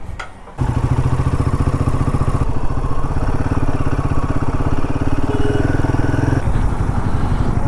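A Royal Enfield Himalayan 450 motorcycle engine fires up and runs loud and close, a steady throbbing idle with a rapid even beat and mechanical clatter that holds for several seconds before easing slightly at the end.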